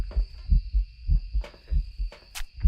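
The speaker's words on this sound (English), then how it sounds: "I hear your heartbeat." A heartbeat in the horror game Phasmophobia thumps in a steady, low, muffled double rhythm, repeating about every half second, with a faint tonal hum and brief higher noises over it.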